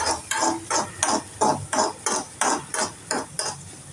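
A spoon stirs scrambled egg for egg burji in a frying pan, giving a steady, rhythmic scrape roughly twice a second, close and continuous throughout.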